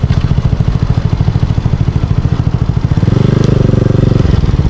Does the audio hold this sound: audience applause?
no